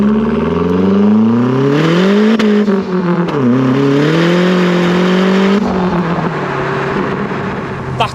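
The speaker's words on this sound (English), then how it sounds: "That turbo noise is absolutely intoxicating." Ford Focus RS Mk1 turbo engine revving and accelerating, loud and close, its pitch climbing through gear changes with a dip and recovery midway, then settling into a steadier drone at the end.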